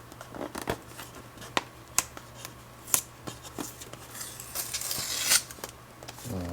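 Packaging for a Samsung Galaxy Note 20 in gray is cut open, giving close, sharp snips and crinkly plastic and cardboard scraping in irregular bursts, with no voices.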